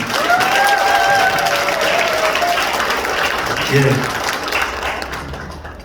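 Applause from a gathered crowd at the opening of a mayoral candidate's election campaign office in Gumi, steady and fairly loud throughout, with a voice briefly heard over it near the end.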